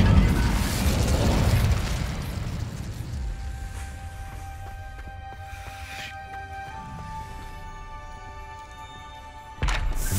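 Incendio fire spell cast in Hogwarts Legacy, a loud roaring burst of flame that fades into a low rumble with ringing mechanical tones, then a sharp sudden impact near the end.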